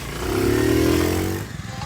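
A motorcycle engine revs during a riding-skills training exercise, holding a loud, steady, close drone that rises slightly in pitch and then drops off as the throttle closes, with no voices over it.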